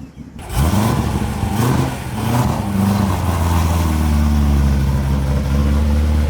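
A cammed Corvette C7 Z06 V8 runs on a hub dyno, starting with a few sharp blips and then climbing into a long, loud, sustained pull with a steadily rising engine note.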